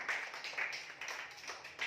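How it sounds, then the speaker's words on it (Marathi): A group of children claps hands together in brisk, uneven rhythm for a couple of seconds, close and fairly bright, with no talking over it. "चला टाळ्या वाजवा"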